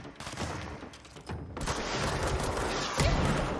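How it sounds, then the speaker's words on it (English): Rocket launched in the video game Control, a dense burst of blasts and gunfire with a loud roaring explosion swelling around the middle and holding steady to the end. "That's a rocket. They have rockets."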